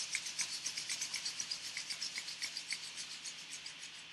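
Palms rubbing together quickly during a guided meditation, a steady rhythmic swishing friction of about five strokes per second, close and fairly soft, with no voices.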